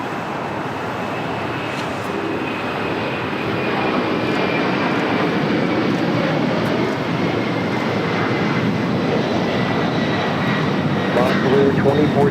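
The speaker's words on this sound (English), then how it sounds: "Latam Airlines 2479 taking off to Lima, Peru, with 767-300ER." LATAM Boeing 767-300ER taking off from LAX bound for Lima, Peru, its jet engines building into a loud, sustained broadband roar that grows stronger over the run.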